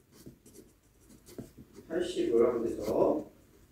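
Marker strokes on a classroom board come as faint scratchy taps and squeaks, followed by louder strokes, with a voice talking over part of it.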